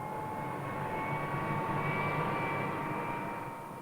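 A helicopter in flight gives a continuous loud engine and rotor drone with a steady whine, holding constant before easing slightly at the end, with no voices.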